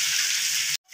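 Loud, bright sizzle of potatoes dropped into hot oil with frying mutton curry, a steady hiss that cuts off abruptly near the end of the short burst.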